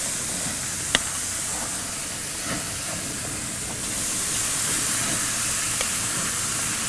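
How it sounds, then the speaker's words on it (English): New York strip steak searing on a hot grill, a steady broadband sizzling hiss that grows louder partway through, with a few faint clicks, alone with no talk. "That's what every steak should be doing when you place it on a grill."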